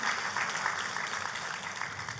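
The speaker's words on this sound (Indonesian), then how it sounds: "Tepuk tangannya yang paling meriah buat Tuhan kita." A church congregation claps together in praise to God during a service, dense steady applause filling the room for the whole moment.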